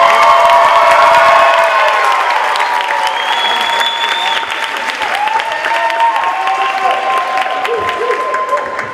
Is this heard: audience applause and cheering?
yes